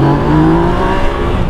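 A loud, close Yamaha MT-09 motorcycle engine roars and climbs in pitch as it accelerates, a steady buzzing drone with rising tones.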